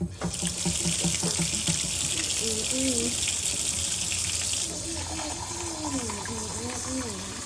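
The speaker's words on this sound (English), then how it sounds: "Now we're gonna go back over to the sink and get the same amount of cold water" Water runs steadily from a tap into a sink with a constant hissing splash while a person talks over it nearby.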